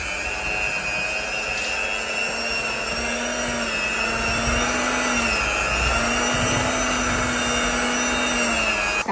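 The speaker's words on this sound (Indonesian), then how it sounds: "Sekarang kita mau kocok whipped creamnya" An electric hand mixer on a low speed setting whips 500 ml of whipping cream for tiramisu, giving a steady close motor whine with a wavering pitch that runs continuously, with no talking.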